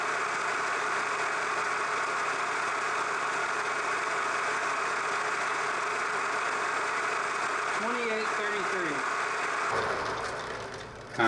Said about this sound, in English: I'm going to turn it on and we're going to check the RPM real quick